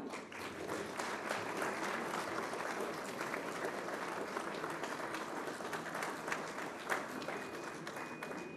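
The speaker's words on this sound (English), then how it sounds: "A big round of applause for all of them" An audience at the inaugural function of a national conference in India, with former President A.P.J. Abdul Kalam as chief guest, claps in sustained, dense applause that fills the hall evenly from start to finish.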